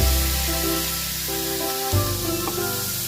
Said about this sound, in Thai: ใส่กุ้งลงไปผัดครับ